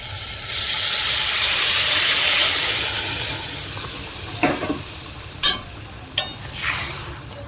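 Water from rinsing a bowl is poured into a hot pan while cooking kochu loti, bursting into a loud broad hiss that fades after a few seconds, followed by several sharp clatters of stirring.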